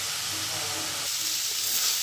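Kolui greens frying in a pan, stirred as they cook down, giving a steady close sizzling hiss with soft scraping, no talk.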